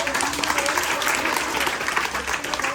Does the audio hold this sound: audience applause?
yes